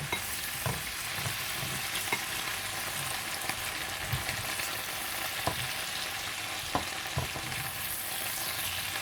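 A pot of prawn soup with red pepper bubbles and sizzles steadily for a rice noodle dish while a utensil scrapes and taps through it now and then, close by and without talk.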